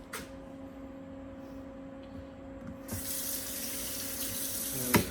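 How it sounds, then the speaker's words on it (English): Water runs from a filtered kitchen sink tap: a faint drip and low hum give way to a sudden, steady hissing stream that continues close by, with a small clatter near the end. "So we have a filtered sink right here."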